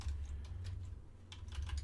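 Quiet, sparse typing on a computer keyboard, a few soft isolated keystroke clicks and then a short quick burst near the end, over a low steady hum in the background.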